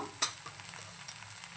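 Ground spices including garam masala, Malvani masala, coriander and cumin powder being sautéed and stirred in a pan for paneer matar masala, with one sharp scrape of the spoon near the start over a faint steady sizzle.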